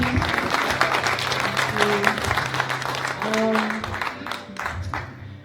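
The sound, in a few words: applause from church congregation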